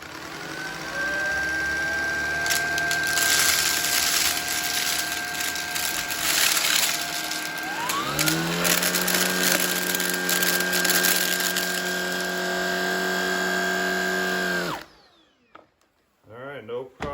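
A Shark Vertex cordless vacuum sucks popcorn kernels off carpet with a loud, steady motor whine and crackling rattles. The pitch steps up partway through as the mode changes, then the motor shuts off near the end.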